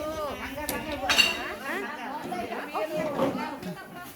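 Glass shards and cans clink and rattle as trash is sorted by hand, a scattered run of light metallic and glassy knocks under several people's chatter.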